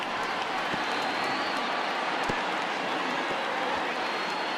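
A steady, wide roar from a stadium crowd of tens of thousands cheering on their feet during a baseball game in MLB The Show 2020, with faint thuds scattered through the continuous wash of noise.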